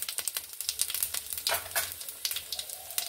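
Whole cumin seeds dropped into hot oil with dried red chilli, bay leaf and whole garam masala for tempering, a close, busy crackling sizzle with rapid pops throughout.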